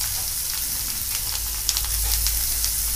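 Finely chopped onion fries in oil with ginger, garlic and green chili paste for a tangra fish dish, giving a steady close sizzle with small crackling pops and stirring clinks toward the end.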